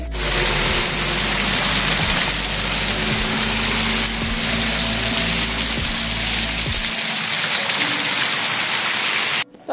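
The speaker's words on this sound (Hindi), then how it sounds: "देखो इधर से छोटा सा पानी आ रहा है इधर से" A small stream of water flows down a mountainside in Arunachal Pradesh, making a loud, steady rushing splash close by that fills the whole clip and fades out abruptly near the end.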